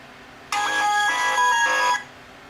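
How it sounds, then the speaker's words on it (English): A mobile phone rings with an incoming call on a workbench during a CCTV lens teardown, playing a loud melodic electronic ringtone of bright repeating tones for about a second and a half before it abruptly stops. "Somebody called me."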